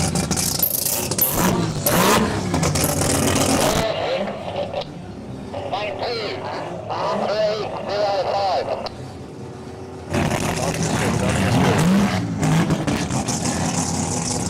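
Race car engines revving loudly at a drag racing event, RX3 against RX2, with bursts of roaring exhaust around a quieter idling stretch and people talking over it.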